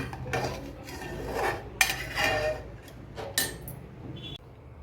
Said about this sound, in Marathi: आता छान आपण हलवून घेऊया